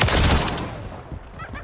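Gunfire in Call of Duty: Modern Warfare III multiplayer on the Rio map: a loud, close burst of rapid shots that trails off into fainter scattered fire and rumble.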